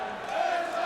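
A darts crowd on its feet roars and cheers for Phil Taylor at the 2007 PDC Premier League semi-final, a dense, sustained wash of voices filling an arena.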